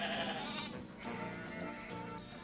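Sheep bleat in a cluster, several wavering cries overlapping and layered over one another, fairly close and loud, with no talking over them.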